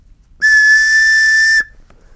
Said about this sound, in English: let me give you the whistle again here.